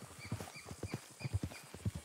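Horse hooves clip-clop in Red Dead Redemption 2 in a steady, close rhythm of loud thuds, with a faint whinny mixed in and no talking.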